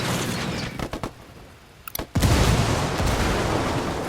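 A frag grenade in Ghost Recon Wildlands goes off with a sudden, loud, close blast after a brief lull and a few scattered shots, followed by a sustained roaring rumble and distant gunfire.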